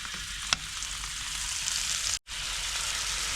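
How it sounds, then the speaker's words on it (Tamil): Cashews sautéing in a pan over a village kitchen fire give a steady, close hiss of frying. One brief tap lands early and a short gap interrupts partway through, with no talk. "முந்திரி எல்லாம் சேர்த்து வதக்கி"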